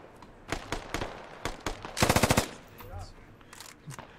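An M240 machine gun fires in the video game Squad, scattered single shots then a tight rapid burst of about six rounds, loud and close, with faint radio chatter behind.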